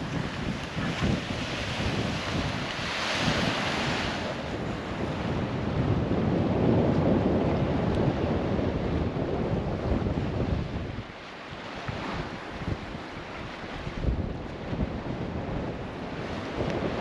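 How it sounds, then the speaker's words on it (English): Strong coastal wind at Fowlers Bay, South Australia, roars and buffets the microphone continuously, with a surf-like rush underneath; a brief lull comes near the end before gusts return. "We weren't expecting this wind."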